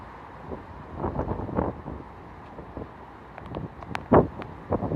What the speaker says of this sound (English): So here comes a gust.